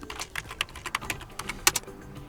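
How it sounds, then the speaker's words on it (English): Someone types a password on a computer keyboard: a quick, uneven run of crisp, close keystroke clicks lasting about two seconds, with no voices. "So I will type in my password"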